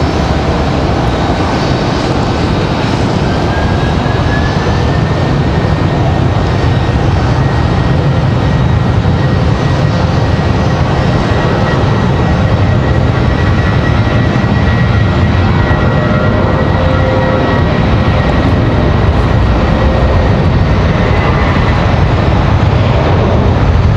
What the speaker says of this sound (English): So this A319 ready to go for United in that beautiful Evo blue livery.